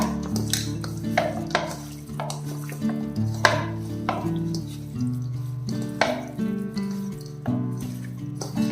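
Chicken being mixed by hand with salt and spices in a bowl, giving soft wet squelches and scrapes over steady background music.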